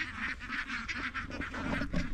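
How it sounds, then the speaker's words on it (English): Ducks near a garden with beehives quack in a steady run of honking calls, close and fairly loud, with no voices. "oh, there's the ducks."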